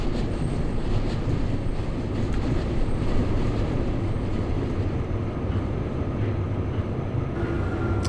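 A London Underground Central Line 1992 Stock train runs underground near White City in the OpenBVE simulator, a loud, steady roaring rumble of wheels on track with faint rhythmic clatter and occasional squeal, no talking.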